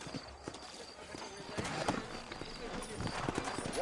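Horse hooves clip-clop in the Western video game Red Dead Redemption, a steady riding rhythm heard under ongoing character dialogue.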